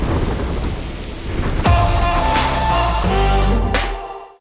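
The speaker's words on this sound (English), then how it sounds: "it started to pour down with rain" Heavy rain pouring down in a thunderstorm, a steady loud wash of rainfall with rumbling thunder and a couple of sharp cracks, no voices.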